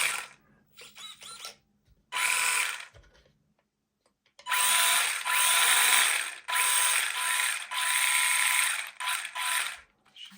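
Gritty whirring drivetrain of an Arrma Grom RC car, running in several bursts separated by silent pauses, close and loud with a grinding, ratcheting edge.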